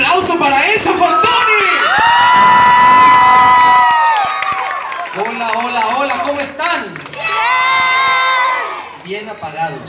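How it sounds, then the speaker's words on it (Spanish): An audience at a comic convention show in Acapulco claps, whoops and cheers loudly from close range, with shrill shouts rising and falling in bursts and an amplified voice talking through the din. "¡Fuerte el aplauso para esa fantástica!"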